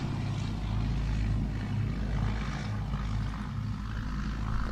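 A Bristol Blenheim's piston engines roar at takeoff power, a dense, steady throbbing drone with a deep low-end pulse that holds at constant loudness throughout, with no talk over it.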